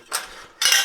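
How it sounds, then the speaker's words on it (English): Two short metallic bursts of a dimple die pressing into cold mild steel sheet, a bright clanking hit followed by a louder ringing scrape, close by with no speech. "mild steel sheet. It dimples quite nicely, cold."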